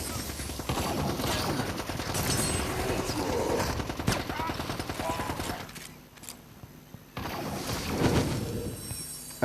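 Weapon fire in the video game Blitz Brigade: loud, dense bursts of rapid gunshots that go on almost without a break, ease off briefly in the middle, then start again.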